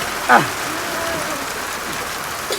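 Rain falls in a steady, continuous hiss throughout, with a brief louder burst near the start and no speech.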